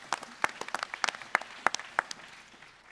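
A small panel audience applauds a question with scattered, distinct claps that are sparse and fairly faint, tapering off after a few seconds.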